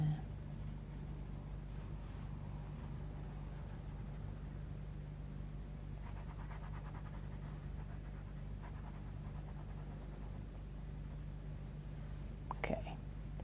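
Coloured pencil shading lightly across paper, a soft continuous scratchy rasp of strokes that runs steadily at low volume, close up, with no talk.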